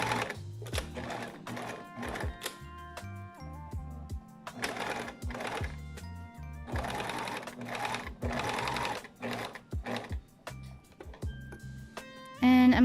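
Sewing machine stitching a thrifted tank top in quick bursts of rapid mechanical clatter, pausing and restarting several times, close and clear with no speech.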